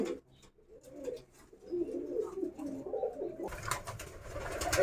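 A male kalshira pigeon and other pigeons give soft, low, repeated coos, close and fairly quiet, with a brief rise of broadband noise near the end.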